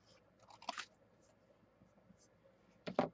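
Scissors cut paper for a craft swap, two short crisp snips close and quiet, one early and one near the end, separated by faint room hush.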